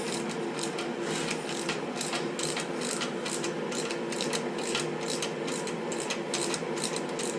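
Ratchet wrench with a 9/16 socket tightening the fork nut on a Harley-Davidson Iron 1200 Sportster during a progressive fork spring install, a fast, steady run of close, crisp clicks without pause.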